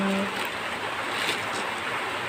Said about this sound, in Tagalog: kumulo na yung ating tubig